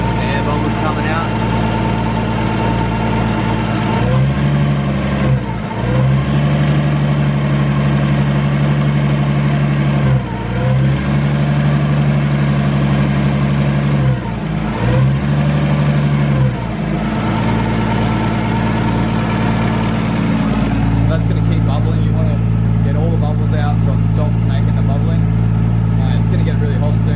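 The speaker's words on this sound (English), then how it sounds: "I just run the car and let it bubble and piss out everywhere" A Nissan 180SX with an RB25DET engine idles steadily while its coolant is bled, the low engine drone continuous and close, with slight dips in the rumble and speech over it.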